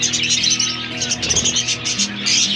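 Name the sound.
budgie chicks chirping in a breeding pot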